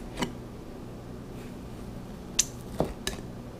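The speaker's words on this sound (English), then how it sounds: "Cut a tomato here." A Damascus 8-inch Black Forge chef's knife slicing a tomato on a cutting board gives a few sparse, soft taps and clicks against a quiet background, with no talking.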